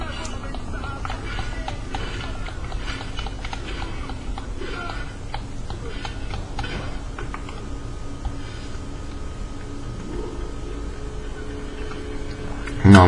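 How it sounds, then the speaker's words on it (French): Horse hooves galloping in the video game Assassin's Creed II, a steady rapid clip-clop running under game ambience and music, fairly loud and continuous throughout. "je vais pouvoir vous montrer du coup les voyages à cheval"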